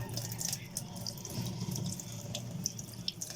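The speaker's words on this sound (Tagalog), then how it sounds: "ibababa daw ito sa malamig na tubig, sa running water" Cold tap water running from a faucet over food to cool it, a soft, steady splashing stream in a sink, fairly quiet and close, with occasional small drips and clinks.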